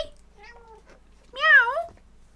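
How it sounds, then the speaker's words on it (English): A house cat meows twice indoors, a short soft call followed by a louder, longer rising-and-falling meow, close by with quiet room tone around it. "Meow."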